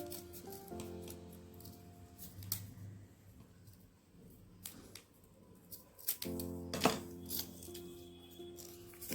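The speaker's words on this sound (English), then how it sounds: "To the closed side draw a C shape and cut the paper." Scissors snip through folded paper in a quiet indoor craft setting, with a few faint ticks early on and a louder burst of close cutting and rustling near the end, alone without talk.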